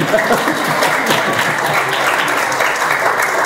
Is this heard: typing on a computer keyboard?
no